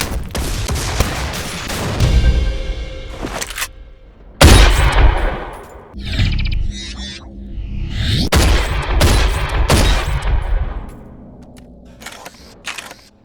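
A shotgun fires repeatedly in the video game Rage, each blast a loud, punchy boom with a crisp crack, spaced a few seconds apart, with mechanical pumping and reloading clicks in between.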